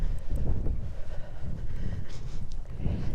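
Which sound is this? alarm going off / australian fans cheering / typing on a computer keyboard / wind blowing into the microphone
wind blowing into the microphone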